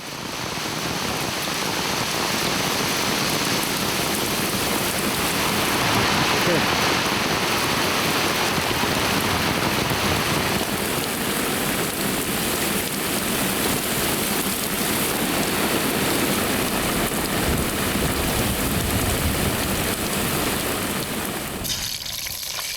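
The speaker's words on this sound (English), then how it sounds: "In the wet season, it never rains, but it pours." Heavy wet-season rain pours down continuously in the Gabon jungle, a loud, dense wash of drops that stays steady throughout, with a short shift near the end.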